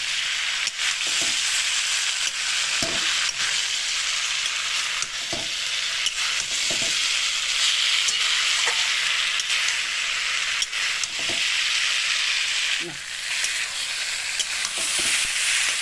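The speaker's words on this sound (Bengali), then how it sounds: "এই আলু ভেন্ডি দিয়েও আমি মোটামুটি তিন থেকে চার মিনিট এটাকে কষিয়ে নেব" Fried potato and okra sautéing in a pan, a loud continuous sizzle with periodic scraping strokes of a spatula stirring, close and without talk.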